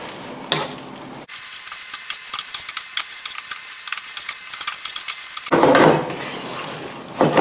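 Creamy bacon pasta with grated Parmesan and pasta water is tossed and stirred in a pan, giving close, steady scraping and sizzling with soft clinks, louder at the start and end.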